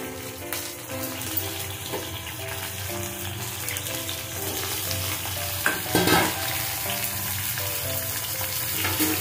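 Ridge gourd pieces sizzle steadily in hot oil, a loud, close, continuous hiss that swells briefly around the middle as they are stirred, with soft tonal music underneath and no voices.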